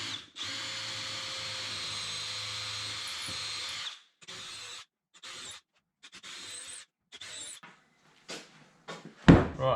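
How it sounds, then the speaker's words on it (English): A power drill runs steadily for a few seconds as it bores a pilot hole into old timber, then several short bursts follow, ending with a clunk. "And I'll drill the pilot hole quickly first."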